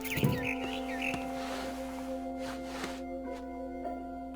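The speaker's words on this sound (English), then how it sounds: "Then I heard chirping outside my window. It was a barn swallow going back to her nest." A few quick barn swallow chirps and tweets at the start in the video game What Remains of Edith Finch, fading into a quiet background hum with occasional soft clicks.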